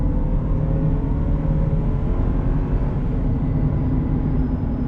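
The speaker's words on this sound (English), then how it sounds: "let's go ahead and put a load on the car and see what happens as we come around this corner over here" A Land Rover LR3 engine pulls under load while driving around a corner, giving a steady, loud drone of engine and road noise throughout with no voices.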